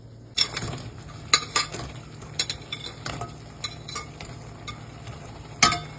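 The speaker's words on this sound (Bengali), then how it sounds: "এই পর্যায়ে আমি এর মধ্যে দিয়ে দিচ্ছি এই যে ভেজে রাখা পনিরগুলো" Fried paneer is stirred into chilli sauce in a pan, a spoon scraping and clinking against the metal in irregular strokes over a soft sizzle, close and with no talk.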